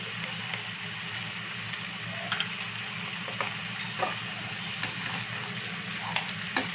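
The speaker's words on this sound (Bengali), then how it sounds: "সব কিছু ভালো করে মিশিয়ে নেব।" Chilli chicken is stirred in a frying pan, a steady loud sizzle with intermittent scraping and clicking of the spoon against the pan, close up, with no talking.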